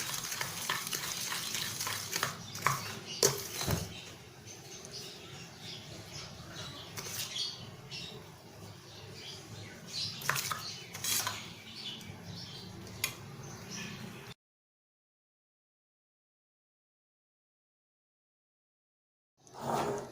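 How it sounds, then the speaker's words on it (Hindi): White glaze for homemade donuts being mixed in a bowl, close irregular scraping and tapping strokes for about fourteen seconds, then silence before a brief burst at the end; no talking. "इसको पहले अच्छी तरह से मिक्स कर लेते हैं।"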